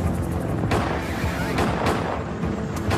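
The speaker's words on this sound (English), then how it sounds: "As the first agents approach, gunfire erupts." Loud, chaotic bursts of gunfire as ATF agents approach David Koresh's compound at Waco, several sharp cracks and booms in quick succession over a harsh rumbling background.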